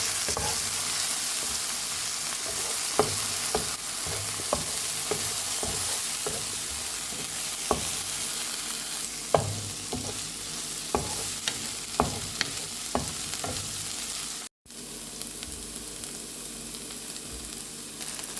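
Chopped green chillies frying in a pan, stirred steadily: a constant bright sizzle with regular scraping strokes of the spoon, near and loud, no voices, with a brief dropout midway.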